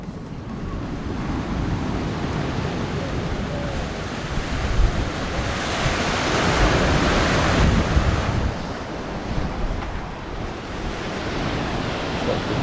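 Sea waves wash steadily onto the shore of an Abkhazian beach, a continuous broadband roar that swells slightly mid-way, mixed with wind buffeting the microphone and heard with no talk.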